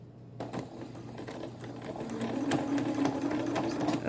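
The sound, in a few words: sewing machine stitching T-shirt fabric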